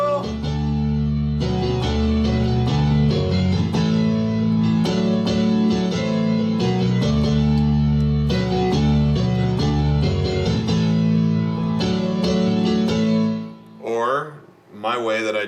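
Piano playing a song as on the record, loud rhythmic chords with a bass line, continuous until a brief pause and some stray notes at the end.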